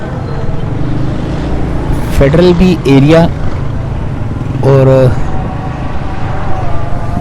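Motorcycle and traffic noise on a Karachi street in the Federal B Area flat-blocks district hums steadily under someone talking, with engine drone rising and falling throughout.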